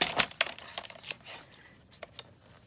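Paper being cut by hand along a straight line for a journal's inside cover: a series of crisp, close snips and papery crinkles, loudest at the start and thinning out, with no talking.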